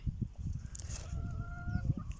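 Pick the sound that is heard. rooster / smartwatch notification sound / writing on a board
rooster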